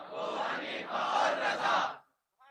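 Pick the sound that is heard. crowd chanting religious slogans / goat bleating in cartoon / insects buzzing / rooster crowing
crowd chanting religious slogans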